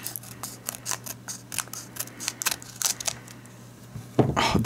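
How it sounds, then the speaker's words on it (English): Scissors snip repeatedly in quick, uneven cuts close by, cutting open the packaging of a Pokemon Hidden Fates Gyarados tin, ending with a louder crinkle of handling. "I'm back with some scissors"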